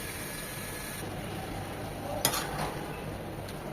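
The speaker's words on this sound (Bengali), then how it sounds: "এটা এখন একদম ভাজা ভাজা করে নেব।" Minced shrimp filling with a splash of water fries and is stirred in a pan, giving a soft, steady sizzle. A brief utensil scrape or clink stands out near the middle, with no talking.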